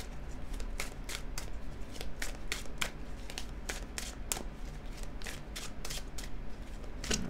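Fairy-themed tarot cards are shuffled at close range, a steady run of quick crisp riffling flicks and snaps repeating for several seconds with no talking.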